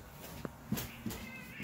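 A cat gives a few short, faint meows spaced about half a second apart against a quiet indoor background.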